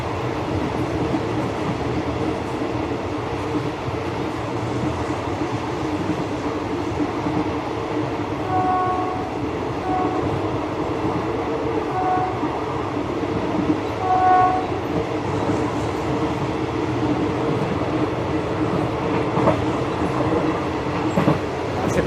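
A train rolls past in the Thai countryside: a steady, loud rumble of wheels and cars runs throughout, broken by two clear horn blasts partway through.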